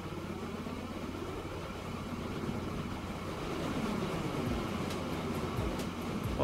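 Train from the railway game Trainman's Fever pulling out of a station: a steady rumbling engine and wheel noise that swells slightly, with faint high ticks and a sharper knock at the end.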